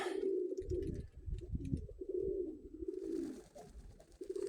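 Pigeons coo in soft, low, repeated rolling phrases close by, a steady murmur with faint rustling and no speech.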